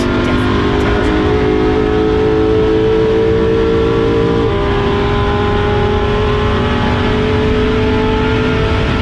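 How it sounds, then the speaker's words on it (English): A race car engine at Spa revs hard and close with a steady high-pitched drone, the pitch rising then dropping through an upshift before climbing again, loud and continuous. "a nice revvy upshift put me past Hancock and into clear air"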